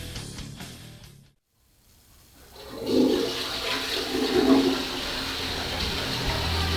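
A toilet flushing after a brief quiet pause: a rising rush of water swirls and gurgles, then settles into a steady, close, fairly loud pour as the bowl refills.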